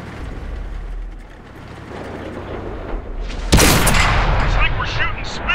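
A tank gun fires in World of Tanks on PS4, one heavy blast landing abruptly after a stretch of low rumbling engine and mechanical noise, followed by metallic rattling and clanking as the loud boom decays.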